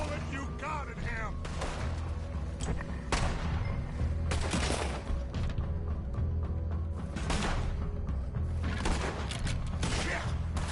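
Gunfire in the Red Dead Redemption 2 video game: repeated shots and bursts throughout, mixed with music and other game sounds, with voices talking over it.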